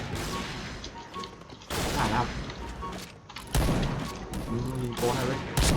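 Rapid gunfire in an online sniper shooter game, bursts of sharp shots in clusters over several seconds, fairly loud, with a voice talking between them.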